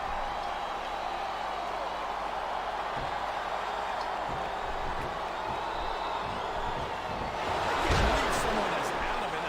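A wrestling arena crowd in WWE SmackDown vs Raw 2007 keeps up a constant dense roar, swelling louder near the end, with commentators talking over it.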